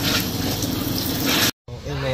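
Water runs steadily from a tap for a moment, a close, fairly quiet rushing flow that cuts off abruptly, followed by a brief faint voice.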